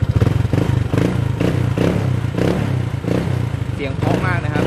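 A 2016 Honda PCX 150i scooter idles and blips its engine through a modified exhaust, giving a steady, loud, throaty pulse with clattery mechanical noise nearby and no voices.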